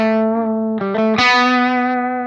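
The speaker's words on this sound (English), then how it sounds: "Up next is a Line 6 Kinetic, an original design where preamp stages clip simultaneously, allowing for a range from clean to heavy distortion" Electric guitar plays through a Line 6 Kinetic distortion amp model on a Pod Go, sustained overdriven notes with a few quick changes, loud and close with no voices.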